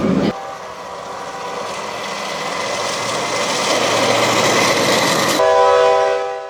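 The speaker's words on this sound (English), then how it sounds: "its V16 two-stroke engine has the familiar sound of GM locomotives all over the world" An ex-Canadian Pacific GM locomotive with a V16 two-stroke engine rumbles loudly nearby, a steady heavy drone building slightly over several seconds before cutting off abruptly.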